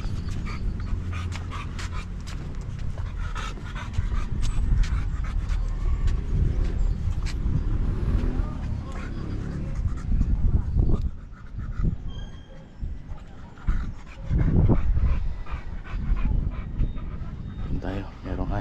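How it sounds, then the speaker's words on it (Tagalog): A dog pants rapidly and close by in a bar and restaurant, mixed with people talking and rumbling background noise. "merong aso yung hari"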